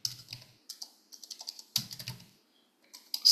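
An old USB keyboard plugged into a mobile phone through a USB-C adapter cable is typed on in quick, irregular bursts of close, crisp key clicks separated by short pauses.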